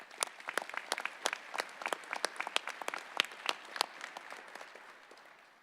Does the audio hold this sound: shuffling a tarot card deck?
no